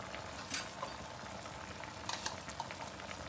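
Chicken simmering in milk in a karahi for a white karahi gives a faint, steady bubbling hiss with a few small pops, close by and with no voices.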